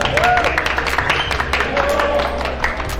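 An audience at a women's contest during a tasting and promotional event in Lüleburgaz claps steadily, a continuous wash of applause with raised voices mixed in.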